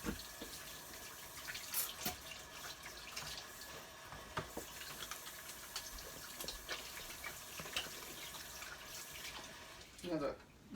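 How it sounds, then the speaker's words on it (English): Tap water running over hands while washing off olive oil in a kitchen during bread baking, a faint, continuous splashing trickle with a few louder splashes near the end. "I have to wash my hands there because I got olive oil over my hands"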